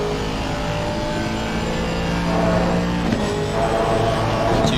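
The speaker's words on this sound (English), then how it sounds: "the V8 turbocharged car roaring down the straights and roaring through these corners" A turbocharged V8 race car in a racing video game, a dense continuous engine roar with shifting pitch as it pushes on, loud and steady throughout.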